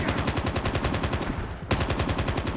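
Sustained automatic machine gun fire in COD Mobile, a rapid, steady stream of loud shots with a brief break in the middle before the burst resumes.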